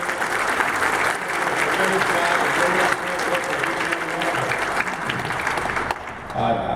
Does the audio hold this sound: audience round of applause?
yes